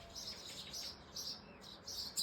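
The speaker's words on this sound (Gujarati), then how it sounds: "ભાઈ મસ્ત અવાજ કરે ને ચકલા." Sparrows chirp at a village home, a faint cluster of quick, high-pitched tweets coming in short bursts with small gaps, heard alone against a quiet background.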